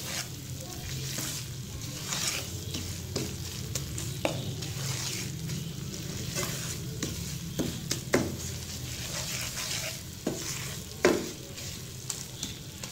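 Semolina (suji) roasting to light brown in a pan for halwa, a soft continuous sizzle broken by repeated scraping stirs of a spoon against the pan, close and fairly quiet, no voices.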